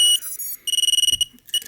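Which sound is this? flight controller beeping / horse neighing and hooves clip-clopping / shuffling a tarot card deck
flight controller beeping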